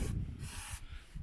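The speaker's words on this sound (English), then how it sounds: "give it a little spray with our disc brake cleaner" Disc brake cleaner sprays from an aerosol can onto a bicycle's disc rotor, caliper and pads in two or three short hissing bursts, close and fairly quiet.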